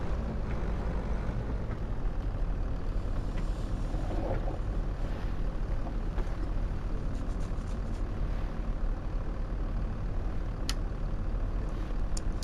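Truck engine driving in Farming Simulator 25, a steady low rumble with broadband noise throughout, fairly loud and continuous, with no talk over it.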